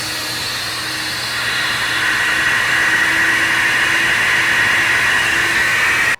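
Air rushes through a stage 2 12-valve Cummins cylinder head on a flow bench, a steady broadband roar that grows louder after the first second and holds until it cuts off abruptly.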